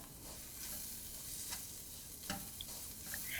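Ground masala spices, including garam masala and pepper powder, sizzle in a pan for kappa biriyani as a spoon stirs and scrapes through them; a constant frying hiss runs under occasional sharper scrapes and taps, with no voices.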